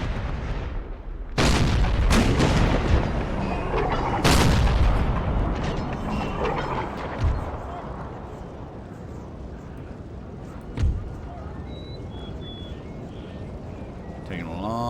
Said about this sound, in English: Artillery to start firing on those guys.